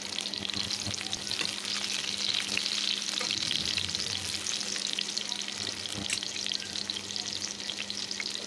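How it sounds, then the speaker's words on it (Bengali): Chopped onion frying in well-heated oil for a dal, giving a steady, close, dense sizzle with occasional stirring sounds throughout and no talking. "তেলটা বেশ গরম করে নিয়ে দিয়ে দেবো পেঁয়াজ কুচি"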